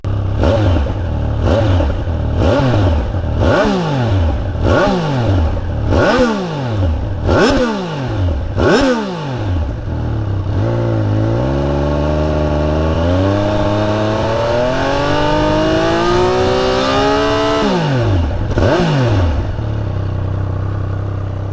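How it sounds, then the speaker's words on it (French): A 2021 Triumph Speed Triple 1200 RS motorcycle engine starts and is blipped repeatedly in sharp revs, then held in a long rising rev before dropping back to a steady idle, loud and close. "je vais vous faire écouter la sonorité de la moto"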